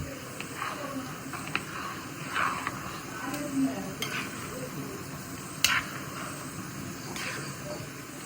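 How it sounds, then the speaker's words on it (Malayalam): Goat leg paya curry is stirred in a pan, giving a soft, low simmering sizzle with scattered scraping clicks of the spoon, and a voice is heard in the background. "നല്ല ഇളക്കി വിടുക കേട്ടോ"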